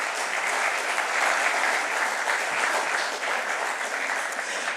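Dense, sustained applause from an audience at an evening talk, a thick wash of many hands clapping together at even loudness throughout, with no individual claps standing out.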